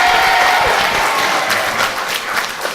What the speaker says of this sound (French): On va l'accueillir sous un tonnerre d'applaudissements.